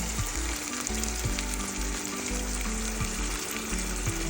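An egg fries in a hot pan, a loud, close, continuous sizzle and crackle with a low bubbling undertone and no talking.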